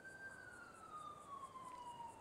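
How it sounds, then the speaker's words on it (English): A police siren wails in a GTA roleplay street scene, one steady descending tone with a faint pulsing whoop, heard moderately distant and fairly quiet against low background rumble. "I still hear the sirens."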